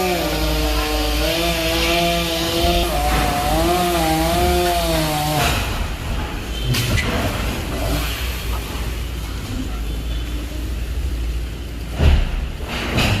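A chainsaw cuts fig tree branches near a house roof, its engine whining steadily and warbling for about five seconds before dropping to a rougher idle and intermittent revs with woody rasping.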